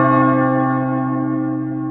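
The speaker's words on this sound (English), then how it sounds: "Sound the funeral bell." A single deep church-style funeral bell tolls once, loud and close, its rich ringing tone slowly fading over nearly two seconds with no voices.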